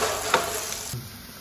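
Crushed ginger-garlic paste frying in a hot pan, a broad steady sizzle with a brief stir scrape near the start, fairly close and alone without talk.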